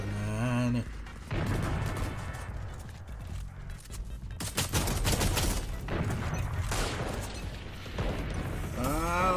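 Rapid automatic gunfire bursts in a Valorant match, sharp cracking volleys packed close together amid mechanical clicks and game effects, loud and near, with a brief voice near the start and end.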